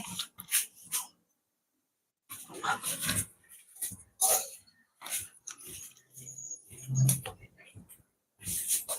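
A dog gives a string of short whining, howling cries broken by pauses, close by and fairly quiet, with a voice speaking briefly between the calls.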